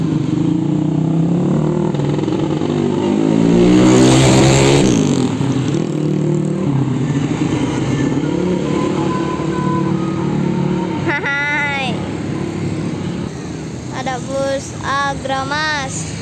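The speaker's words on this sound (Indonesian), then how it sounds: "Ada bus Garuda Mas." A Garuda Mas bus passes on the road amid steady engine rumble from traffic, with a swell of vehicle noise midway and horn-like tonal honks near the end.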